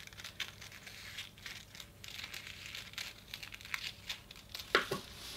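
Scissors snipping away excess paper from a sewing pattern, with faint, irregular crinkling and rustling of the paper and a sharper cut near the end.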